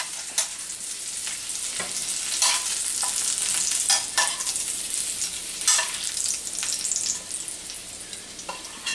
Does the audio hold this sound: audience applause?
no